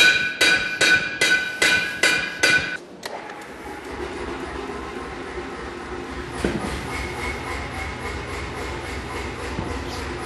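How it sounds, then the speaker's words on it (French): A self-compressing air power hammer pounds metal in a forge, about seven loud, evenly spaced blows in quick succession, then stops and leaves a low mechanical hum and clatter. "il s'agit d'un marteau autocompresseur, un marteau pilon autocompresseur"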